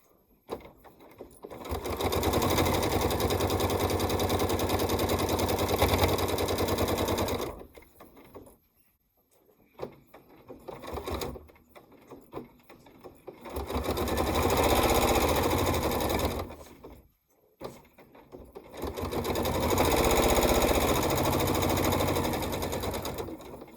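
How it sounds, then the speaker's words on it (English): Sewing machine stitching a quilt-as-you-go seam, running in three sustained bursts of steady rapid stitching with short pauses between, close and fairly loud with no talking. "you only have 18 inches to sew at this stage"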